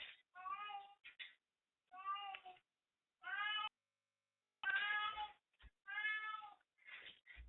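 A cat meows repeatedly and loudly, six or seven drawn-out calls in an uneven rhythm with short pauses, close by and with no talking. The cat is soaking wet after a dog slobbered on it during play.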